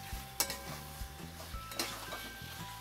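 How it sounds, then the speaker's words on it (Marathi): A spoon scrapes and clinks against a pan while kaleji pota gravy with salt is stirred, the strokes knocking rhythmically over a soft steady sizzle, close and alone with no talking. "तर चांगलं असं मिक्स करून घेते हे बघा"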